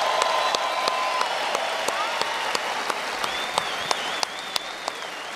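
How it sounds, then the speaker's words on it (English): A stadium crowd at the 2011 US Open men's tennis final trophy ceremony gives steady, sustained applause, a broad wash of clapping with sharp individual claps popping out, heard alone without talk. "How about another wonderful round of applause for these 2 incredible champions?"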